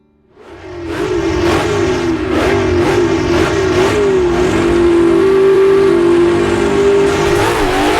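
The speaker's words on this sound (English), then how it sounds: "we jump behind the wheel of a wonderful, high-powered 289 Cobra for 6 laps through the country" A high-powered 289 Cobra sports car roars off the line at the start of a road race, its engine revving hard and climbing steadily through the gears, loud and close throughout.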